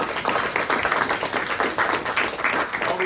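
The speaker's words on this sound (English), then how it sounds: "Let's give Harry's a quick round of applause" A luncheon audience gives a brisk round of applause, many hands clapping steadily and fairly close for about three seconds.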